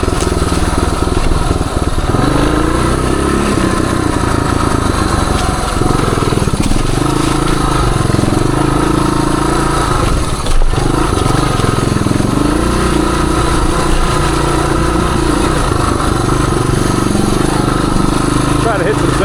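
A 1978 Suzuki DR370 motorcycle's high-compression single engine holds a loud, steady drone under engine braking on a downhill dirt trail, with small shifts in pitch throughout.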